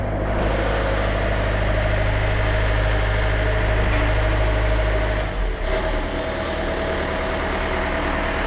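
A boat engine idles steadily on a test run, a loud, close, continuous low rumble that dips slightly near the end.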